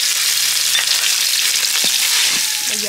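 Crushed lemongrass and shallots fry in hot oil in a pot, a loud, dense, continuous sizzle with faint stirring scrapes and no talking.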